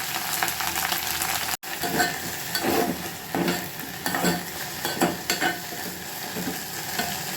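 Drumstick (moringa) leaves frying on a low flame in a pan while being stirred, a steady soft sizzle with repeated scraping stir strokes throughout, close and without talk.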